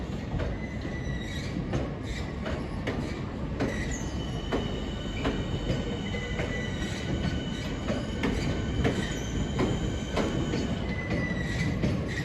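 At Victoria station, electric train unit 465 161 passes with a continuous rumble and clatter of wheels and intermittent high metallic squeals from the rails.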